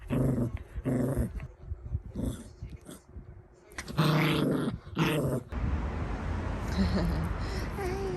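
A dog growls in low, rumbling bursts across the first half, with a voice or yips mixed in, then the growl gives way to a steadier, noisier rumble near the end.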